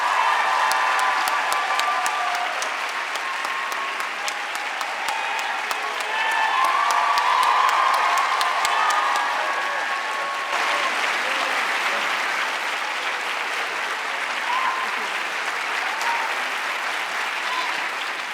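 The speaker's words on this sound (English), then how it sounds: "Please give them a round of applause." Audience applause welcomes a governor and a journalist onto the stage at an evening public event, a steady, dense wash of clapping that holds for the full length with no break.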